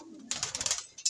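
A pigeon coos softly while feeding its chick, a faint, brief burst of throaty cooing and rustling heard alone.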